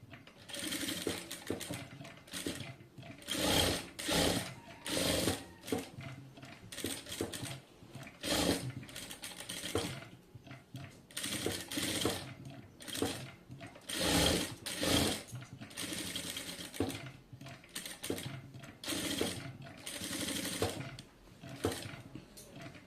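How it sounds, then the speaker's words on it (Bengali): A sewing machine stitches two fabric flower parts together, running in close, steady mechanical bursts of rapid needle clatter broken by short pauses as the fabric is turned. "আমি এই সাইড দিয়ে হচ্ছে পুরোটা হচ্ছে সেলাই করে দুইটা পার্ট হচ্ছে আটকে নেবো"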